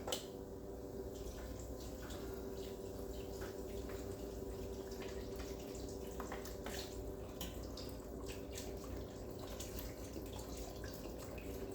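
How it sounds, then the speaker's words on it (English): Broth pours steadily into a pot of beef barley soup, a continuous soft liquid trickle and splash that runs for the whole stretch at low level with no talk over it. "We're gonna add 5 cups of broth."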